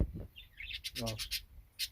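A few short, high chirps and whistles from pet cockatiels in an aviary, up close, with a brief human voice mixed in.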